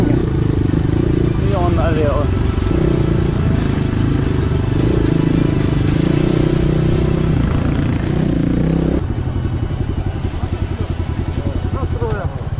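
Enduro motorcycles ride along a road, their engines droning steadily and fairly close for the whole stretch, with a shift in engine tone partway through and the rumble of the bikes over the road surface.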